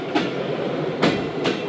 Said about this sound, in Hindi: पचपन मिनट लेट है ट्रेन पास हो रही है हमारी